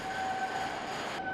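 A cable train runs through a long, dark rail tunnel descending toward the town inside the Seikan undersea tunnel in Japan: a steady, loud rolling rumble with sustained metallic whining tones, continuous and close throughout.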